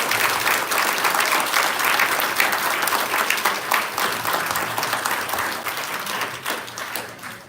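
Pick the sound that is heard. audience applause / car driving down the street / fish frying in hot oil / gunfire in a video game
audience applause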